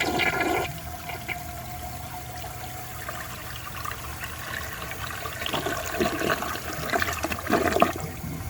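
A 1983 Crane Radcliffe toilet flushing a washcloth, a loud rushing flush swirling and gurgling down, then a refill trickle with bursts of gurgling near the end.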